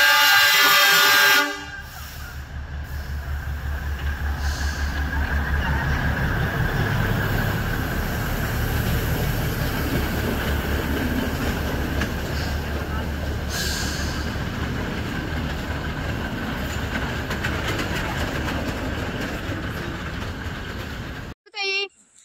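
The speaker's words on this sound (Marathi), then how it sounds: "माथेरानची ट्रेन आलेली आहे." A Matheran toy train arrives with a steady low rumble of wheels and carriages, and a loud horn sounds near the start before the train rolls on close by, with voices faintly present.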